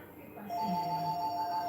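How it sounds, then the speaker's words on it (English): A phone rings with an incoming call, a steady electronic tone that starts partway in and holds on as a sustained, moderately loud ring, with faint room sound before it. "As I'm calling my phone right now."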